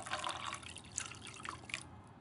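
Water pours and drips into a cooking pan holding gobo (burdock root) and pork, filling it with a close, steady trickling and splashing that runs alone.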